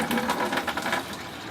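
Water splashes and spits from a boat air conditioner just after its breaker is reset, a steady rhythmic pulsing, fairly close and moderately loud, with no talk over it.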